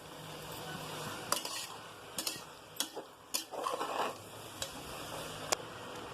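Soaked basmati rice stirred in a cooking pot, a low sizzle under a series of sharp spoon scrapes and knocks against the metal, close but fairly quiet.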